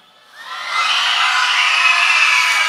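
An audience of children at a kids camp night event screams together. The sound swells quickly into a loud, sustained, high-pitched roar of many young voices that holds steady to the end.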